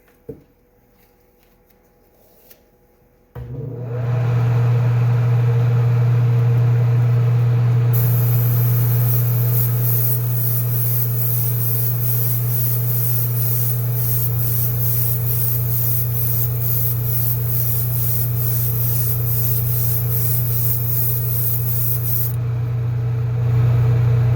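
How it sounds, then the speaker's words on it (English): Airbrush spraying green paint in a fade over yellow on a test spoon for a #46 City Chevrolet model, a steady close hiss of air that starts after a few quiet seconds and runs unbroken to the end. "we're going to put a test coat on the spoon and take a look and see what that looks like, and if everything is good, then we'll start to spray the green."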